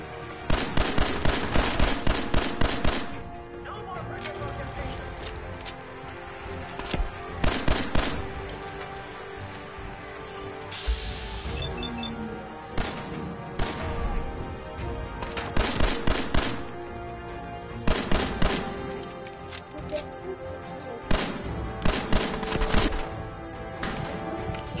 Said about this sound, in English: Where's the other guy shooting from?